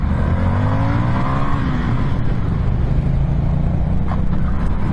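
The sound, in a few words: 2021 Indian FTR motorcycle accelerating in first gear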